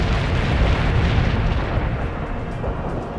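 Heavy artillery barrage in the game World in Conflict, a continuous loud roar of overlapping explosions and rumbling booms filling the whole stretch without a pause.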